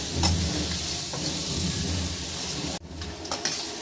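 Sweet potato stir-fry sizzles steadily in a pan while a spatula turns it, producing an even, hissing frying sound with occasional light scrapes, heard up close without any voices.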